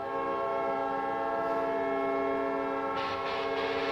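An NHL arena goal horn, the Winnipeg Jets' horn, blares as one loud, sustained, train-like chord with steady harmonics, holding for the full span with a brighter shift near the end and no talk.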